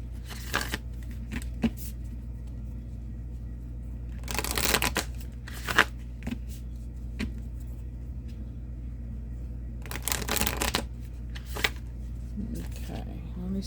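Archetype oracle cards being shuffled, with several brief riffling bursts of card shuffling spaced apart over a low background hum, and a voice talking between them.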